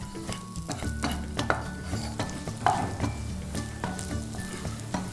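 Peanuts roasting in a hot pan for sabbakki uppittu, with a spoon scraping and stirring in repeated strokes over a steady dry sizzle and rattle, close and moderately loud, no voices.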